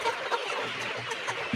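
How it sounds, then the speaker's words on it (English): Fourteen-week-old layer hens cluck and murmur in a flock, with soft overlapping calls and a few sharper clucks over a steady farmyard background. "The birds have started making the sound for the laying hens."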